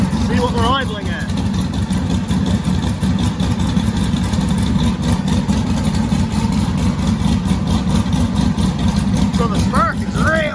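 A big-cam twin-turbo LS V8 idles roughly and loudly throughout, with a steady choppy lope that never lets up while someone talks over it.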